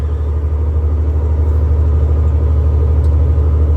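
A truck driving slowly on a winding West Virginia road at about 40 km/h, a loud, steady low engine rumble close by throughout, with no talking.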